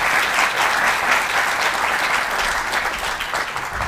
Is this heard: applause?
yes